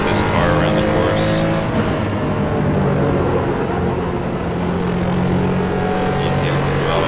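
A 1987 RUF CTR Yellowbird in Assetto Corsa drives on a race course with a steady engine drone, its pitch shifting as the car accelerates and eases off, and a voice talks over it.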